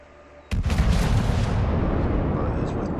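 Battleship main guns boom in World of Warships, a German battleship firing at long range; one sharp blast hits loud after a brief quiet stretch and rolls into a long sustained rumble.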